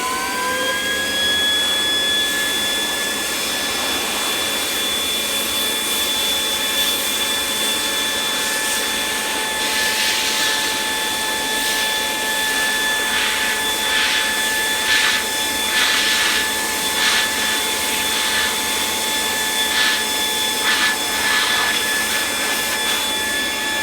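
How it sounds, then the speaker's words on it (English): Cadillac Quik-Vac Model G-12 industrial blower running steadily at close range, a loud continuous whine with a few fluctuating surges partway through, no talk. "this industrial blower"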